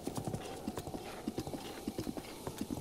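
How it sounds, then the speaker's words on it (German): Horse hooves clip-clopping along a path in Zelda: Breath of the Wild, a steady quiet trotting rhythm of light hoofbeats under soft game sounds. "dass wenn ein Weg da ist, das Pferd automatisch auf dem Weg läuft, ohne dass man irgendwas drücken muss"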